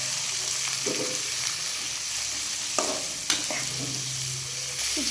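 Onion, green chili and curry leaves frying in a pan, stirred steadily with a spoon; a continuous sizzle with occasional scraping clinks, close and fairly loud, no talking.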